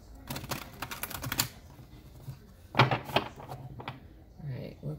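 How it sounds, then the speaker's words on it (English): A deck of tarot cards is shuffled by hand, making quick clusters of papery flicks and taps in short bursts with pauses between, close by in a quiet room. "One more shuffle."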